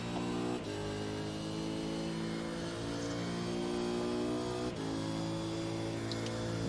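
A race car engine in iRacing revs under modulated throttle, a loud, steady harmonic drone that dips briefly on two quick lifts before climbing again, with no talking.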